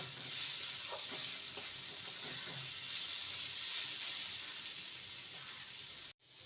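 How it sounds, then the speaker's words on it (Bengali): Fenugreek leaves and potatoes frying on high flame for methi aloo, a continuous bright sizzle and hiss with soft scraping stirs, ending in a sudden brief cutoff. "দু মিনিট হাই ফ্লেমে রেখে মেথি শাকটাকে ভালো করে নেড়ে নিয়েছি"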